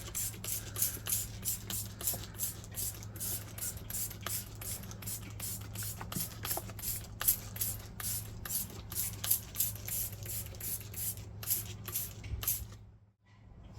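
Steady hissing spray bursts of thick gel rust treatment on a Super Duty truck repeat in quick rhythmic pumps for about twelve seconds, close up, then stop abruptly into near silence.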